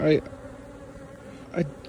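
Bees in a small mating nuc hive buzz as a low, steady drone close by, with a couple of brief louder bursts as individual bees pass near.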